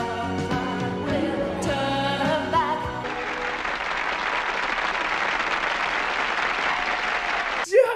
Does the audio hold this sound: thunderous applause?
yes